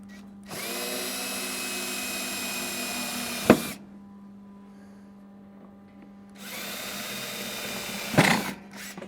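A power drill whirs steadily in two bursts, boring holes for a Wrangler tailgate MOLLE panel, each run ending with a sharp clack and a pause of quiet between.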